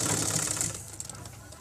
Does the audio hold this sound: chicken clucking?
no